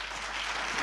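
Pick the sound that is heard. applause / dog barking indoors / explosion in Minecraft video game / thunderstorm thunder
applause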